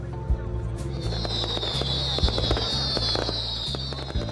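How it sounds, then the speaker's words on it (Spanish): Fireworks bang and crackle at the Saint Agatha festival in Catania, a rapid series of sharp, close bursts over a steady low rumble of the crowd and street. "Se pueden ver fuegos artificiales"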